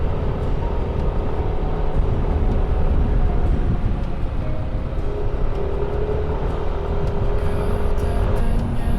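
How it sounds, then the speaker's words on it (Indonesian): A convoy of cars travels a rural village road in West Java, heard as a steady, loud broadband road and engine rumble throughout with no clear pass-bys, on a sunny day. "Kita susul aja guys. Ini rombongan mobil."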